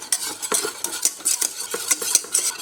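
Melted butter and flour are stirred in a saucepan for béchamel with a utensil, giving repeated close scraping and clinking strokes in an irregular rhythm, with no heat under the pan yet.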